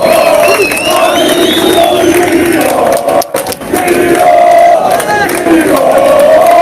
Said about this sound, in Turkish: bir alkış beyler